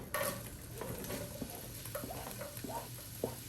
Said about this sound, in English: We're just going to put a little bit more oil. Throw some minced garlic. Minced onions.